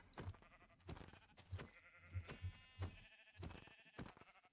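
Repeated bleats from Minecraft sheep come in short, evenly spaced calls, close and clear, with no talking.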